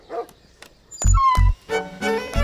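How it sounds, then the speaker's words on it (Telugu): A house dog barks sharply several times close by, a quick series of loud yaps with whiny rising tones between them, a short startled outburst at a visitor. "కుక్క."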